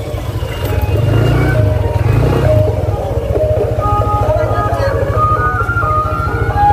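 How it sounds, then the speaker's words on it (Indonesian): Car engine passing close by on a lively village street during an ondel-ondel procession, a loud steady rumbling drone with a brief swell, mixed with crowd noise and music-like tones. "Wah ada mobil guys"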